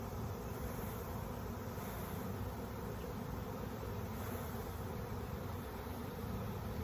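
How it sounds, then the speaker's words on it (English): Honey bees swarm at an open beehive, producing a loud, steady, close-up droning buzz that fills the whole stretch without pause. "I'm gonna wade through this sea of bees."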